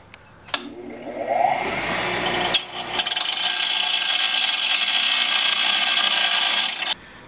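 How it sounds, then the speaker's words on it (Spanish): A bench grinder polishing and sharpening a metal ninja star, a loud steady high-pitched grind running continuously for several seconds after a brief start, with a short gap before it resumes and cuts off sharply near the end. "Ahora vamos a usar el esmeril, que es para pulir la estrella"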